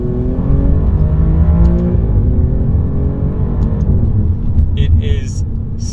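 An Alfa Romeo Giulia Quadrifoglio engine in dynamic mode with manual shifting, revving loud and close, with a dip near two seconds and then rising again, plus a few brief higher-pitched sounds toward the end.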